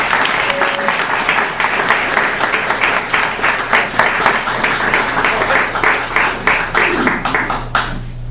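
Steady, full applause from a book-event audience welcoming author Jane Leavy, dense clapping sustained for several seconds before fading out abruptly at the end.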